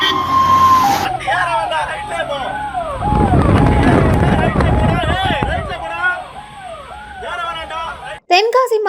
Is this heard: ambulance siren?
yes